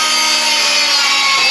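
A saw cuts through a 2x4 wooden board with a harsh, continuous rasping close by, loud and unbroken over the short stretch.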